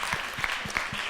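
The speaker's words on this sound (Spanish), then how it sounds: "le damos un aplauso al Señor por tu vida" A church congregation claps together in steady, rhythmic applause during a worship service, the beats coming evenly and close, with no one speaking over it.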